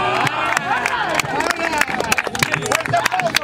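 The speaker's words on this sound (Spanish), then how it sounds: "¡Fuerte aplauso, fuerte aplauso," Crowd at a Spanish-language rap battle in a champions-edition tournament round of sixteen, clapping and cheering loudly and densely, with voices shouting through the noise.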